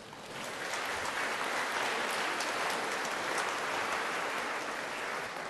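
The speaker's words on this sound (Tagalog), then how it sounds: "Pumalakpak ng malakas." A congregation at Mass applauding loudly, a steady, dense wash of many hands clapping that holds evenly for several seconds, heard from within a large room.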